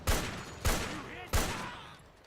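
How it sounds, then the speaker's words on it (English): Gunfire in the Metal Gear Solid 4 video game: three heavy booming shots spaced about half a second apart, each with a long echoing decay, moderately loud with no speech. "Suppressing fire!"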